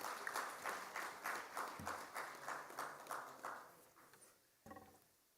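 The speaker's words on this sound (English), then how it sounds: "So I think it needs a round of applause from all of you." Faint, distant applause from a conference audience with a steady pulsing rhythm, like a crowd clapping together, fading off before a final short burst.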